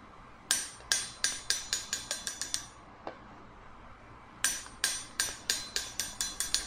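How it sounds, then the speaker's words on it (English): A steel ball bearing bounces on a used vintage anvil of about 130 lb, giving sharp ringing pings in two quickening series, each run of bounces tightening in rhythm and fading, heard close with no talk. "In this one, it definitely sends the ball bearing back."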